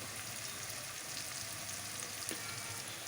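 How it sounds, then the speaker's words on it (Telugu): Ginger garlic paste frying in a pan for a cauliflower curry, a dense, even sizzle close up and continuous, with no talking. "అల్లం వెల్లుల్లి పేస్ట్ ఫ్రై చేసుకుంటున్నాను"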